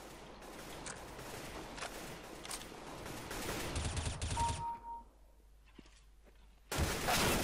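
Gunfire in Counter-Strike: Global Offensive deathmatch, bursts of rapid automatic shots and single cracks, fairly loud, followed by a quiet gap and one final heavy blast.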